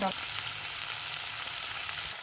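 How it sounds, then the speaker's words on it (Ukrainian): Onion frying in butter in a pot while cooking fish in sour cream sauce, a loud, dense, continuous sizzle heard up close with no voices. "Цибульку підсмажили."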